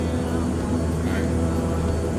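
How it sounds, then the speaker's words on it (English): A King Air twin turboprop in a flight simulator hums steadily as power comes up on the runway, a constant droning engine tone with a faint voice in the background. "Let's add power slowly here, get the props up on the governor."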